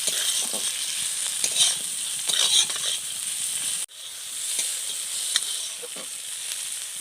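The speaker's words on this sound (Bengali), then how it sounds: "এবার টমেটোটা তুলে দেবো। টমেটোটা আবার ভালো করে গলিয়ে নেব।" Tomato cooking down with lightly fried onion in a pan for a snail (gugli) curry, a loud continuous sizzle with scattered stirring scrapes and a short gap partway through.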